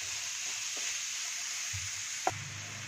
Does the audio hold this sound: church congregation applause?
no